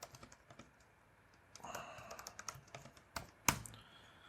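Typing code on a computer keyboard: scattered soft key taps that speed up midway into a quicker burst, with one sharp louder clack near the end, close and quiet, with no voices.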